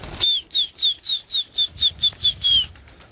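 Pigeons flapping their wings as a loft is opened, a loud, close series of about ten rhythmic wingbeat bursts with faint chirping, no voices.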